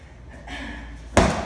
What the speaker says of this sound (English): Good old-fashioned wall slams, everyone.